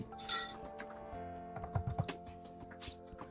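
Gravy for a smoked turkey is stirred in a pot, with soft clinks and scrapes of a utensil against the metal in a short irregular burst, faint and close, with no talk.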